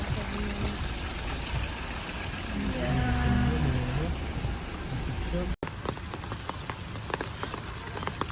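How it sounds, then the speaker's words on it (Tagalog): Steady rain falls on a farm villa, a dense continuous patter with trickling and dripping water close by. Voices speak softly underneath. "So, it's raining."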